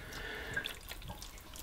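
Water runs and drips into a slow cooker holding chunks of bear fat, a soft faint pour and trickle heard alone at close range.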